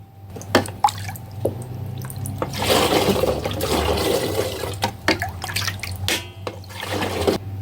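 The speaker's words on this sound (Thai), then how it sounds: "ระหว่างนี้เราจะไปเทน้ำต้มโกโก้ลงถังหมักนะ" Boiled cocoa water, made for cocoa white chocolate wine, pours into a fermentation tank as a sustained watery gush framed by scattered drips and splashes, close and moderately loud.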